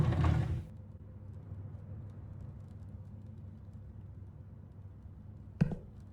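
A drawer slides open with a short creaking, mechanical scrape at the start, followed by quiet room tone and one brief knock near the end, inside the Autopsy Simulator video game.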